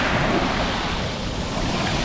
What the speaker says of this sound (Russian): Море практически спокойное.